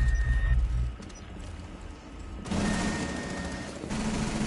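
In Rainbow Six Siege, a gun battle rattles on with bursts of rapid gunfire and sharp impacts, moderately loud and shifting in intensity, with no voices over it.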